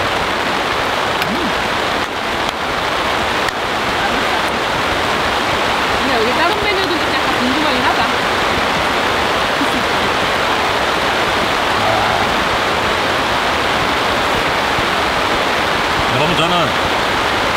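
Heavy, steady downpour drums on a taut camping tarp nearby, a dense, unbroken patter with faint voices underneath.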